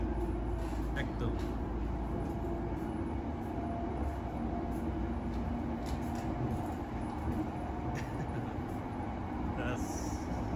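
A continuous low rumble and rolling hum fills the inside of a moving, nearly empty train, steady throughout, with occasional faint clicks and rattles.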